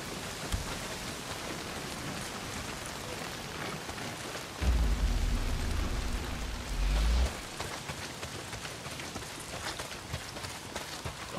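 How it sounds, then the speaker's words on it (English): Steady rain hissing and pattering in Days Gone, a dense, even downpour with a heavier low rumble swelling for a couple of seconds partway through, then settling back into constant rainfall. "Well, not if it's pissing down rain."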